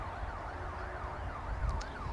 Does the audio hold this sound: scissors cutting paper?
no